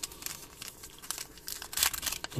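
Foil packs of baseball cards crinkle and tear open close up in a short burst of crackling, strongest near the end; no voices.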